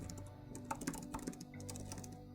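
Steady, quick typing on an iPad Pro Magic Keyboard: a close, even run of soft key clicks with no voices.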